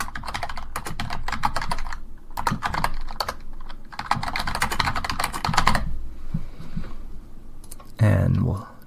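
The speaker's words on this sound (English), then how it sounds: "So let's just type some text here." Text is typed on a computer keyboard in quick bursts of close, crisp key clicks, pausing briefly between runs and stopping near the end before a short muffled thump.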